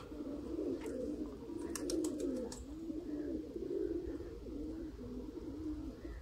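A male Rampuri pigeon coos in soft, low, rolling repeated phrases, close and steady throughout, with a few brief faint clicks early on and no talking.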